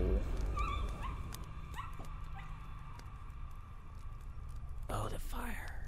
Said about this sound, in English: Dogs are cool though. It's just barking.